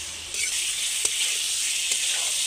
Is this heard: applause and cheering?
no